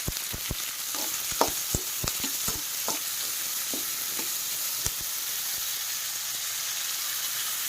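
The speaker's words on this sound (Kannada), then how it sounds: "ಇವಾಗ ನಾನು ಮೂಲಂಗಿ ಹಾಕ್ತಾ ಇದ್ದೀನಿ" Radish frying in a pan, a steady close sizzle with repeated sharp scraping and stirring clacks in the first half, then mostly continuous sizzling.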